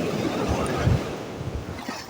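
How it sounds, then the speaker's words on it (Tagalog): Strong sea wind while fishing from a boat, a continuous rushing roar buffeting the microphone with waves washing beneath, close and loud. "Mahangin."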